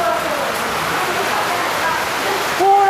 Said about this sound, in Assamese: বাপৰে কি বৰষুণ